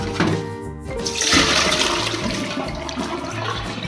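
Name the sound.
draining potato soaking water in the sink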